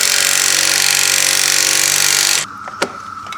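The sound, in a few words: impact wrench on sway bar end link ball joint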